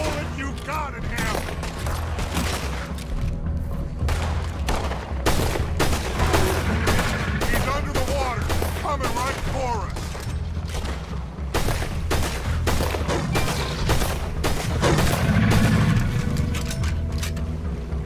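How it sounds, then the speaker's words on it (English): Gunfire in Red Dead Redemption 2, many rapid shots in dense bursts over a steady rumble, with voices talking over the shooting throughout. "Put every bullet you got in him!"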